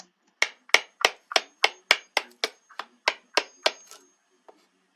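A series of about a dozen sharp hammer knocks on wood during a bench repair, evenly spaced and fairly close, followed by a final faint tap after a pause.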